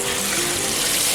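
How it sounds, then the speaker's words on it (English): Water pours steadily from a tap into a cooking pot holding corn, a continuous near gushing splash with no talk over it, in a Trinidadian curry crab and corn kitchen. "in goes the water."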